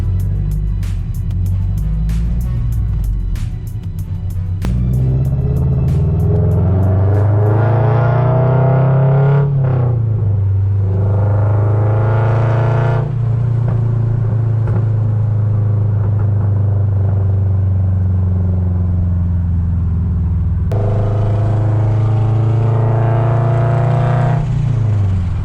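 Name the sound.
Toyota GR86 sports car driving on the road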